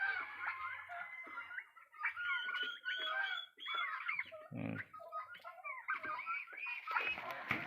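Young chicks on a small farm, some of them sick, peep and chirp in quick irregular bursts at close range, with a few low grunting sounds mixed in and faint voices nearby.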